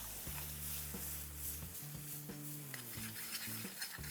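Salted garlic chutney with asafoetida and mustard seeds being stirred in a hot pan, soft scraping and a low sizzle under a steady background tone, with light utensil knocks.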